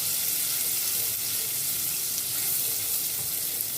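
Cardamom and cinnamon roast in hot oil for sheer kurma, giving a steady, even hiss that stays constant and close throughout, with no talk.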